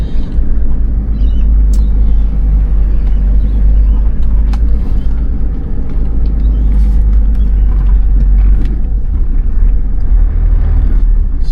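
Car engine rumbling loud and close in a deep, steady drone while gears change and the clutch pedal comes back up, with faint knocks and clicks scattered over the top and no voices.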